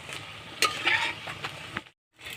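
Water lily flower fritters fry in hot oil, a soft steady sizzle broken by close metallic clinks and scrapes of a utensil stirring and lifting them, ending in a brief silence.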